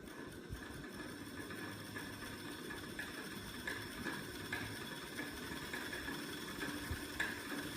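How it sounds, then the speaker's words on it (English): A small commutated DC motor runs on roughly 12 volts, giving a steady, fairly quiet mechanical whir with a constant hum and faint rattle throughout, no voices. "This is our DC motor running off of approximately 12 volts."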